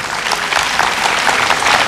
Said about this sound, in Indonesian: Kita beri tepuk tangan dari Universitas Indonesia.